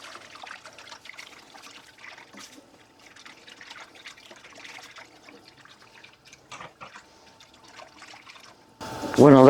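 Milk poured into a pot while being whisked, a faint continuous trickle with light metallic scraping throughout, ending in a louder burst of liquid and clatter.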